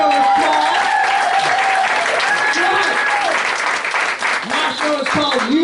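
Loud comedy-club audience applause and cheering with bits of laughter at a stand-up show in Metamora, a dense steady wash that thins slightly toward the end, with some voices mixed in.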